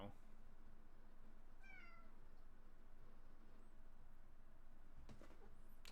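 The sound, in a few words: cat meowing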